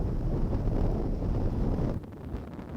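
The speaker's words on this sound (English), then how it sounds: "We're approaching an anchorage in very windy conditions, and Skip Novak is going to talk you through" Strong wind at a sea anchorage near Cape Horn roars steadily across the microphone with a dull rushing rumble, easing slightly near the end.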